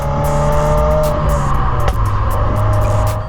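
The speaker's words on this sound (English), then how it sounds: "the burble sound that it makes. Man, I love that burble." A 2025 Subaru WRX tS exhaust burbles with a loud, steady engine drone and uneven crackling pops layered on top, close by and alone without talk.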